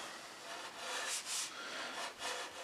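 A bladeless block plane shaves thin curls off wood while shaping part of a storage cabinet, giving a run of soft, dry scraping strokes, two brighter passes standing out near the middle, close and fairly quiet, with no talking.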